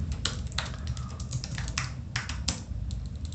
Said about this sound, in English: my keyboard is playing up, my G key isn't working